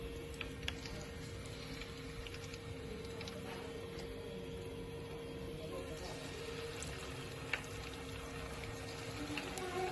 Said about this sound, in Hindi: मीडियम टू लो फ्लेम पे करेंगे हमें इसे 8 से 10 मिनट डीप फ्राई